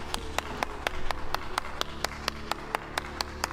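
Sharp, evenly spaced single hand claps repeat in a steady rhythm, about a dozen distinct slaps over a low, quiet background.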